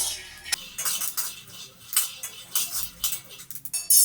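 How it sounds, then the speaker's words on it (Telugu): Peanuts being stirred and roasted in a kadai over a low to medium flame, a continuous close run of rattling, clinking scrapes of a spoon against metal, with no talking. "ఇప్పుడు వీటిని వేయించాలి. లో టు మీడియం ఫ్లేమ్ మీద పెడుతూ వేయించాలి."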